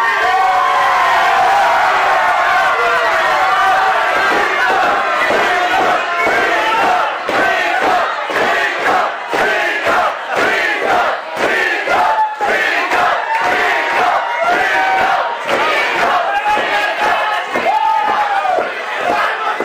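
A lucha libre wrestling crowd at Lucha Fantastica in Brisbane in 2019 loudly yells a wrestler's name, the mass of voices chanting in a steady, pulsing rhythm close by.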